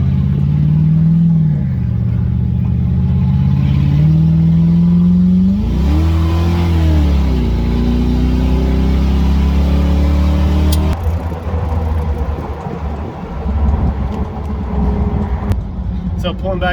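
Engine of a TAZR off-road vehicle with 5.13 gears revving and rising in pitch as its tires spin in dirt, loud and close, with the engine note climbing, dropping and climbing again.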